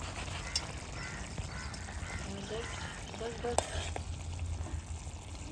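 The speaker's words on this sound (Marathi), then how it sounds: "थोडासा अजून मसाला ॲड केला मी कलर आला पाहिजे ना सर्व परत एकदा एकजीव करून मिक्स करून घेऊया" Prawns coated in masala stirred in a pan over a wood-fired stove, a low steady frying hiss with faint scraping stirs and a sharp clink near the middle, voices murmuring underneath.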